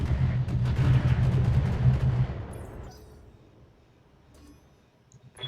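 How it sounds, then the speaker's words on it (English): LRM missile volleys fired at a turret in the BattleTech video game, a dense burst of rapid booming launches and impacts for about two seconds, then fading to quiet with faint mechanical ticks. "we're going to shoot some more LRMs at this turret"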